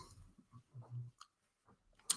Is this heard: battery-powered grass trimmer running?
no